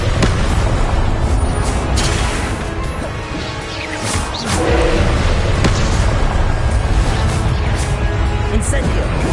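Confringo spell blasts in the Hogwarts Legacy video game, a dense run of loud booming explosions and crashing impacts layered over continuous busy battle noise, with a short lull near the middle.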